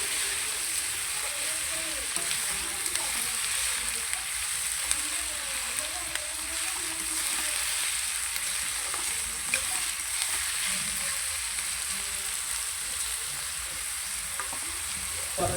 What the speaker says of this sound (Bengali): হালকা আঁচে ভাজছিলাম পেঁয়াজটা